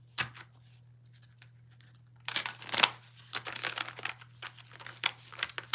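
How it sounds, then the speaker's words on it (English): A deck of tarot-style cards crinkles and riffles close by. A short rustle comes first, then a quiet pause, then a busy run of shuffling and snapping as the cards are handled and pulled, set over a low steady hum. "And I shall pull 3 cards for you."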